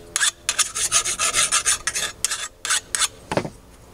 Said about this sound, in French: On va venir simplement à la lime enlever